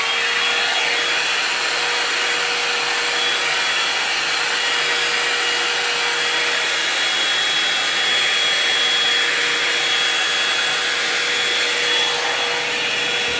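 A hair dryer on its high setting, blowing through hair during a home blow-out, gives a loud, steady, broadband whoosh that runs unbroken and close throughout.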